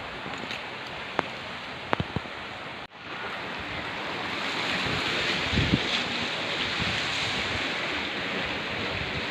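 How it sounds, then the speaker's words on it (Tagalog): Sea surf at a beach in Lobo, Batangas, heard as a steady broad roar of waves with wind buffeting the microphone and a few sharp knocks early on. "So ito na po yung dagat, no, dito sa may Lubo, Batangas."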